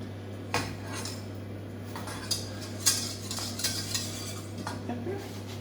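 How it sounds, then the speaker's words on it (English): A utensil scrapes and taps against a hot pan while a fennel and potato gratin sauce is stirred, giving soft irregular clinks and scrapes over a steady low kitchen hum. "You keep stirring it because it'll start to go thick pretty quick"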